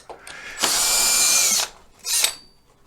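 Electric screw gun driving screws during a repair of a Pride Mobility Victory 9 scooter: one long steady whirring run of about a second, a pause, then a shorter burst, close and loud with no talk.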